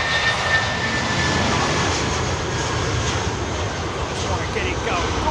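An airliner taking off at London Heathrow Airport, its jet engines producing a loud, steady broadband roar up close, with a commentator talking over it.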